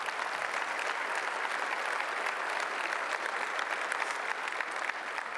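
Dinner audience at an awards event applauding, a dense, steady wash of clapping that holds at even loudness for the whole stretch.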